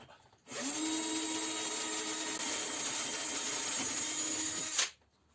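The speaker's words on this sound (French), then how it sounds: "Et je vais percer mes trous." A power drill bores mounting holes for a hybrid photovoltaic inverter through insulation wool, one steady, close whine starting abruptly and holding for about four seconds before stopping.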